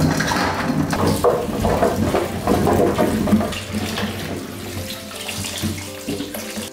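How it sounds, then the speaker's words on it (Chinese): Fresh kumquats are rinsed under a running kitchen tap, with a steady close stream of water splashing over fruit and hands rubbing them, and no talk. "先把金桔清洗干净， 再来加点盐搓洗"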